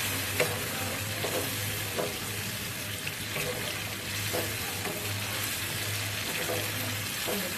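Steady sizzling and scraping as marinated meat is stirred in a hot pot, with rhythmic spoon scrapes over continuous frying hiss and a low hum.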